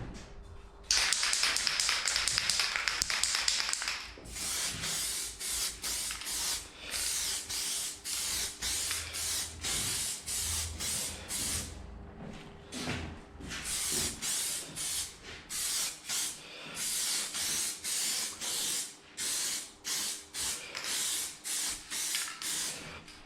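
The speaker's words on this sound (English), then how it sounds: "I'll just spray it like that." An aerosol primer can sprayed onto a motorcycle fuel tank hisses in a long opening burst, then in many short rapid bursts, loud and close, with no voices.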